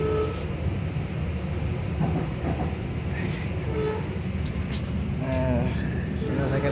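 A passenger train runs along the rails with a steady low rumble and rolling clatter heard from inside, and a voice speaks briefly over the noise.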